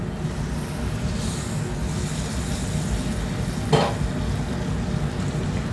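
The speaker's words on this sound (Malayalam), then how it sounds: "ഞാൻ ആ പൊടി വെച്ച ഭാഗത്ത് കുറച്ച് ചൂടുവെള്ളം ഒഴിക്കുവാണേ." Hot water poured into spice powder frying in a pan for a Kerala-style beef dish, a steady loud sizzle and bubbling throughout with one brief sharper splash near the end.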